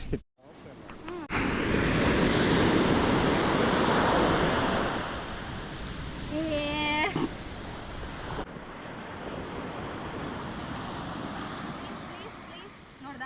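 Ocean waves roll in at Marari Beach in Alleppey, Kerala, as a loud, steady wash of surf mixed with wind buffeting the microphone, with a brief tonal sound in the middle.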